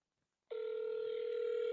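A steady electronic telephone tone sounds as a call is placed again, starting abruptly after a short silence and holding level and clear to the end, with no talk.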